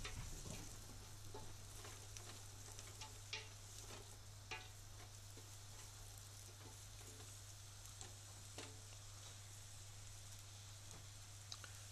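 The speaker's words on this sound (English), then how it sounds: "give it all a good stir. Get those vegetables coated in oil" Vegetables coated in oil sizzle steadily on a roasting tray while being stirred, with a continuous frying hiss, scattered scraping clicks and a low steady hum beneath, close and moderately loud with no talk.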